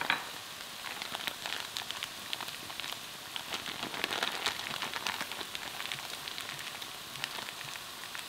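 Continuous crackling sizzle of chicken and vegetables frying with ginger paste and Panang curry paste in a hot pan, steady and close, with small pops and occasional stirring scrapes.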